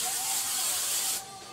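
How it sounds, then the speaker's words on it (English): One sustained close hiss of hairspray from an aerosol can, lasting just over a second before cutting off abruptly. "And then just spray all over."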